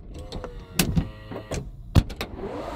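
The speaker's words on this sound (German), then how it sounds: "Und dann geht der Kofferraum zu." A car's power tailgate closes, heard as a few sharp mechanical clunks and motor whirs in close succession, fairly quiet, ending in a soft hum.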